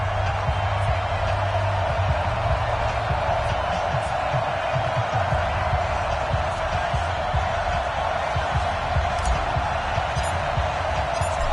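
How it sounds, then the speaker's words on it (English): A stadium crowd roars in an EA Sports NFL video game before a Seattle Seahawks versus Minnesota Vikings matchup, a dense, loud, sustained wash of cheering that never lets up. "This crowd is ready as their guys get set to match up between the Seattle Seahawks and the Minnesota Vikings."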